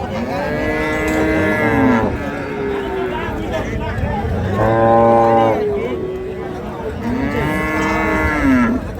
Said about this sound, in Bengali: আমবাড়িহাটের যে দুধের গাভী গরুগুলো ক্রয় বিক্রয় করা হচ্ছে